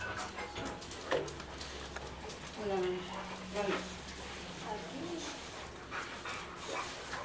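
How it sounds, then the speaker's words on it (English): Several dogs bark and whimper in short, scattered bursts at a place with many dogs, some near and some farther off, with a person talking over them and faint bird calls behind. "So many dogs here, folks."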